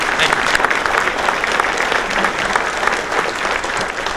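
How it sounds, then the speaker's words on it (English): An audience at a city mayor's inauguration address applauds the Pawtucket school teachers, steady dense clapping from a large crowd throughout, loud and sustained without a break. "I'd like to give them a round of applause for all their hard work as well"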